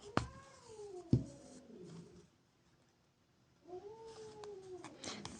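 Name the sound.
cat grumbling and meowing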